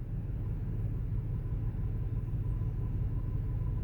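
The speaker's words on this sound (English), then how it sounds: "I like driving this car" A Toyota car with a small oil leak at the drain plug, heard from inside while driving: a steady, low engine and road rumble holding constant throughout, with no voices.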